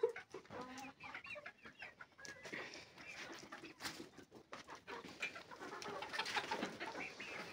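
Egg-laying golden hens on a chicken farm cluck steadily as a flock, with overlapping calls close by and no talking.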